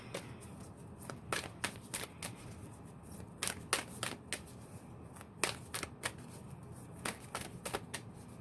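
Tarot cards are shuffled and laid out on a surface, producing a series of sharp, close riffles and slaps at irregular intervals with quiet gaps between them.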